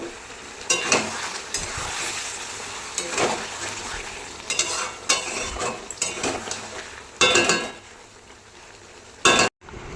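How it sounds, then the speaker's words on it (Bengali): Chicken sizzles and fries in a pan while a utensil stirs and scrapes it in irregular bursts, a steady crackling hiss punctuated by louder clattering strokes, close by. "একটু চিকেন রান্না করছি"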